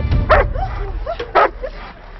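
A puppy gives two sharp, close barks with small yelping whimpers between them, loud against a quiet background inside a motorhome stopped at a border inspection.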